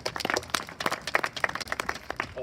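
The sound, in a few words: audience applause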